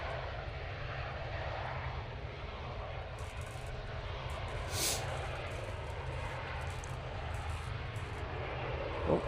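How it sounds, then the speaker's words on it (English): An airliner taking off from Manchester Airport, a continuous low engine roar heard from a distance, steady throughout with light background noise and no clear talking. "Oh, Catherine saying she'll be on the flight to Milan that's about to take off."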